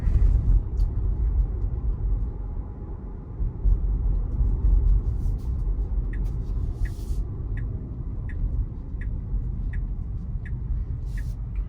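Inside a Tesla Model Y driving in one-pedal mode, a steady low road rumble fills the cabin, with a soft rhythmic ticking, like a turn signal, in the second half.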